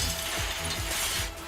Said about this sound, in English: A truck dumps a load of cracked window glass into the factory yard, which shatters on impact